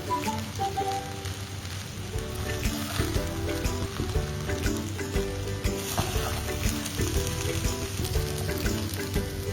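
Prawn fried rice with egg being mixed in a hot pan, a steady close sizzle with scraping stir sounds running throughout, no voices.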